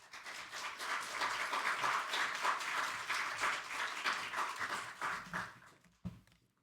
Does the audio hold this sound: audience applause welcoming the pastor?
yes